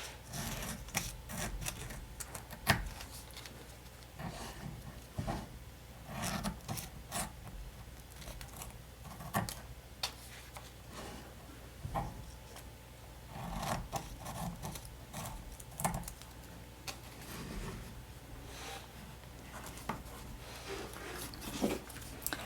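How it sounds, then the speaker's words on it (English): Scissors snip through a sheet of planner stickers, a quick run of small crisp cuts and paper rustles close by, steady and fairly quiet with no talking. "I'm going to cut these apart."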